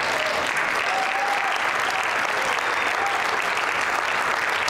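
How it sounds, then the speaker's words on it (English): Audience at a political speech in Tulsa, Oklahoma applauds loudly and continuously, a dense even roar of clapping with no pauses. "you can clap for that"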